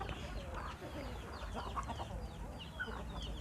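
Chickens cluck and chatter softly while foraging around the base of trees on a Thai farm, several birds at moderate distance with a continuous low murmur of calls.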